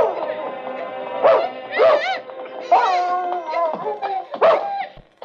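A dog gives a string of close, loud yelps and whining cries in several bursts over about five seconds.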